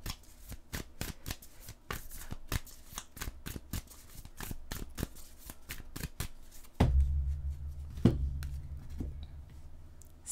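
Tarot deck shuffled by hand at close range: a long run of quick, rhythmic riffling and snapping cards, then a few slower thumps and slides as cards are drawn and laid down, with no voices.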